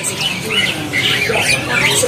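Caged birds at a market kiosk in Pasar Pramuka squawk and chirp in a busy, dense chorus, close and loud, with someone talking over them.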